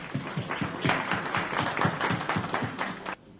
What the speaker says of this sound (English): Also applause for him